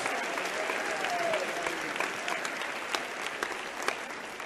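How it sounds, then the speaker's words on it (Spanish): A church congregation at a bilingual service in Lima, Peru claps steadily together, a broad, even wash of hands with a few sharper claps standing out and faint murmuring voices beneath. "Siéntense y aplausos para Cristo"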